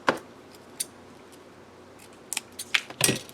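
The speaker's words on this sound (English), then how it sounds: "So I'm going to cut this here." Scissors snip through planner craft material for a DIY writing board, with a few quiet isolated clicks, then a quick cluster of sharper snips near the end, close and soft.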